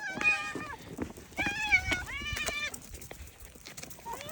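Several cats meow repeatedly, their overlapping cries rising and falling close by, with some brief human voice sounds mixed in.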